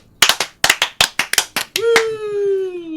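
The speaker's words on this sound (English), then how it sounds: "Do we start with a slow clap?" A single person claps slowly and sharply during a Warhammer 40,000 tabletop battle, about a dozen close hand claps in a loose rhythm, then a voice breaks into a sustained chant-like call of "Nurgle, Nurgle, Nurgle."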